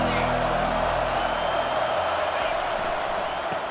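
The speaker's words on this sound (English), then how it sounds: "Challenge this crowd to bring the energy, and I'd say they're doing that." A stadium crowd cheers at a Texas vs Arkansas game in the NCAA College Football 25 video game, a dense, steady roar filling the whole stretch, with a low rumble underneath that fades early.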